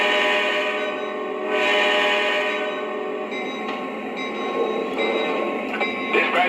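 A Lionel Legacy New Hope & Ivyland excursion model train runs steadily and close by, its motor humming with rolling track rumble and faint clicks throughout, no pauses.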